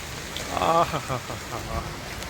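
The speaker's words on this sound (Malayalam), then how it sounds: "ആ അങ്ങനെ ഇടിയോട് കൂടിയുള്ള മഴ പെയ്ത് തുടങ്ങി" Steady rain hisses throughout while a person talks over it, with the voice close and the rainfall even.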